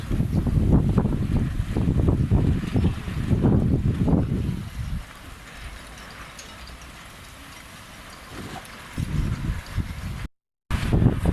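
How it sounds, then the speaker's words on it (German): Strong wind at a 420-class sailing dinghy regatta buffets the microphone in heavy, rumbling gusts, easing into a steadier blowing hiss before gusting again, with no talking. "Der Wind dreht immer mehr auf."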